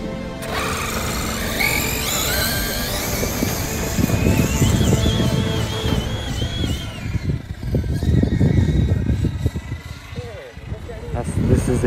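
A Traxxas Xmaxx 8S RC monster truck drives by. Its electric motor whines and sweeps up and down in pitch, then gives way to rough, gravelly rumbling as it runs over the ground.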